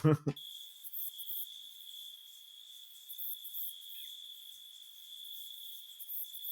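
A steady, high-pitched cricket chirp sound effect drones on continuously in an otherwise quiet space, after a brief thump at the very start.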